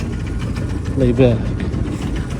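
A car engine idles steadily after starting, a low, even rumble heard close up throughout, with someone speaking briefly over it.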